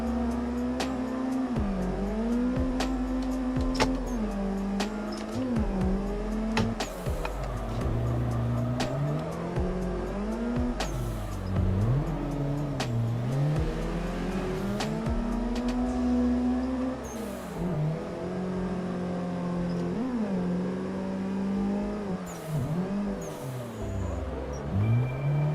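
Drift car engine in a sim racing game held at full throttle, a loud continuous rasping roar that rises and dips with the revs over and over, with faint tire noise.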